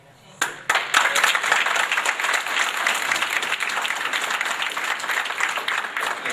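Sustained crowd applause at a local public meeting where residents are speaking about new property and mobile home development, starting abruptly and holding steady, dense and fairly loud throughout.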